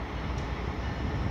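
Train pulling into the New Haven station on a run back to New York, a steady, loud rolling rumble of wheels and carriages that fills the whole moment with no voices.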